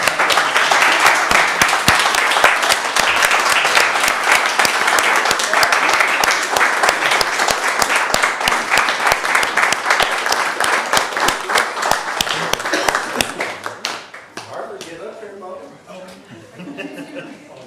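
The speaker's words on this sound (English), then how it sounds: "So please give them a round of applause." A crowd at a village council meeting claps loudly and steadily for about thirteen seconds, with some chuckling and voices mixed in, before the applause tapers off and a few quieter voices carry on.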